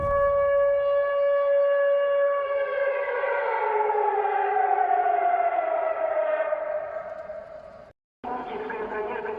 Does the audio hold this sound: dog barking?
no